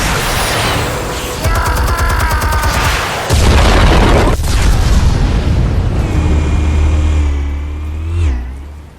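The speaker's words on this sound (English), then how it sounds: "Explosives armed. Fire when ready." Explosions in the Batman: The Telltale Series video game, a heavy boom and crackling blast after rapid rattling bursts, then a low rumbling aftermath with a rising whine, loud and close.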